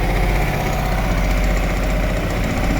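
A Mirage 250 motorcycle engine, stored three years in a basement and now rebuilt, idles close up with a steady, throbbing pulse and no voices over it.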